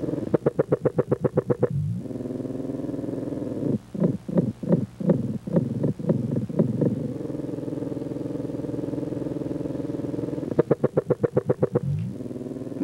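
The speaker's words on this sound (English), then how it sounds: "This is another closely related species, but the song is very different." A Hawaiian Drosophila fly's courtship song, amplified: bursts of rapid buzzy pulses, fast trains at the start and end and slower evenly spaced pulses in the middle, set over a constant low hum with no talking.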